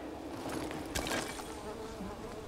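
Bees buzz in the video game Dying Light 2, a steady hum layered over a dense bed of game noise, with one brief louder swell near the middle.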